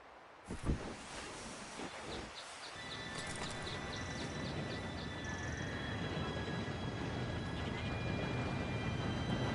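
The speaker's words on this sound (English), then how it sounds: "Train should be here any minute now." Approaching steam train in the video game Red Dead Redemption 2, a rising rumble of wheels and rails that fills the scene, with whistle-like tones and horse sounds mixed in after a few knocks at the start.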